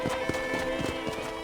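Rhythmic hoof clip-clops of a horse at a steady gallop in Red Dead Redemption, close and even, over a constant bed of background music.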